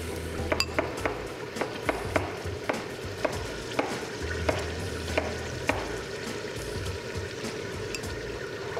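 Onion fries alongside pork for chickpeas with pork, a steady close sizzle under a regular series of sharp spoon clacks against the pot as it is stirred, with no talking.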